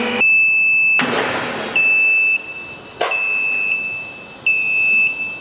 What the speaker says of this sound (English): This lift lowers to 300 mm and stops and buzzer sounds